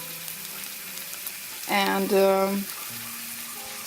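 Cabbage and onions fry in sunflower oil in a pan, a soft sizzle lying under a woman's speech, which rises briefly in the middle.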